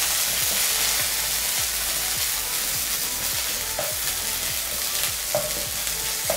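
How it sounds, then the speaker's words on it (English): A steady, loud sizzle of ginger paste frying in a hot pan, with repeated scraping strokes of a spoon stirring it, no talking. "We will add 1 spoon of ginger paste and we will stir till it rolls."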